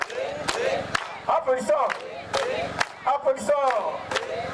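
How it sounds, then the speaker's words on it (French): A congregation at a church gathering claps rhythmically while voices shout and chant in unison, loud sharp claps recurring between bursts of crowd cries. "Applaudissons."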